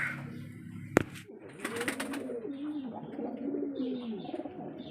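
Pigeons cooing and murmuring close by while being hand-fed garlic, with a sharp click near the start and soft wing flutters, the low rolling calls continuing steadily through the rest.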